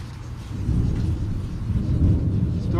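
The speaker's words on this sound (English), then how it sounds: "storm's coming back." Rumbling thunder rolls through a thunderstorm with rain, a low, fairly faint swell that builds and fades over a few seconds with no talk.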